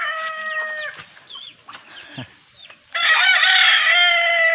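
Hens cluck and squawk in short bursts, then a rooster crows loudly and close, holding a long drawn-out call to the end.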